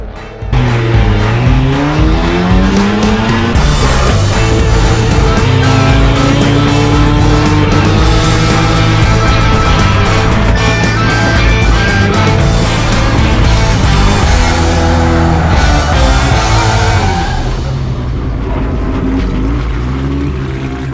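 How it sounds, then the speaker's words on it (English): A Mazda RX-7 race car screams around a track session, its rotary engine loud and close as revs climb and drop through gear changes, with sustained high-pitched whine throughout. "All right guys, first session out in the RX-7."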